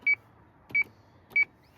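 An HKC alarm keypad gives three short, identical electronic beeps, evenly spaced and close, over a quiet background.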